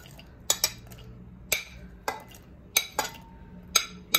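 An onion being chopped by hand with a knife for kibbe seasoning, sharp board knocks arriving irregularly, roughly ten close, crisp taps spaced apart over quiet background.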